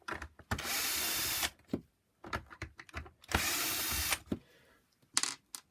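A power drill whirs in several bursts of a second or so each, close and loud, separated by short clicks and pauses.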